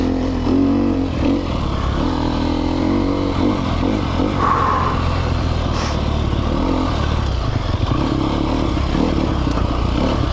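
A 2020 Sherco 300 SEF Factory dirt bike engine revs loud and close, pitch climbing and dropping as the rider shifts up through the gears, with steady mechanical clatter and no talking.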